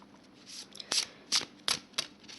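Oracle cards riffled and shuffled by hand to draw one, a series of short crisp papery flicks and snaps, close and fairly quiet, with no talking.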